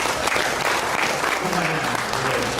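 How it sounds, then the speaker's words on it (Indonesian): Dense, continuous applause from students at an entrepreneurship workshop, steady clapping from a room full of people with a faint voice underneath. "Tepuk tangan dong."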